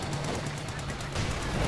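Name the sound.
STG assault rifle gunfire from Volks Grenadiers in video game Company of Heroes 2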